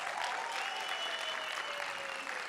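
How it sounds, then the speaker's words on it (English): Conference audience applauds at a student event, producing a brief, even burst of clapping from many hands that holds steady and fades slightly at the end. "Can we give yourself a round of applause?"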